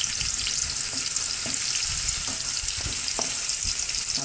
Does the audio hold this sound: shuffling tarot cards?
no